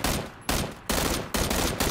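Rapid bursts of automatic gunfire in a video game, loud and close, coming in four or five repeated volleys roughly half a second apart with no talking.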